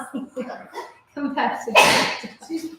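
During a sunrise yoga class, someone lets out a single loud, sharp sneeze nearby, set among brief spoken words before and after.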